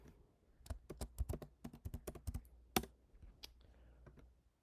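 Keystrokes on a computer keyboard while entering text into spreadsheet cells: a quick, uneven run of crisp, close taps that pauses briefly midway, heard on their own without talk.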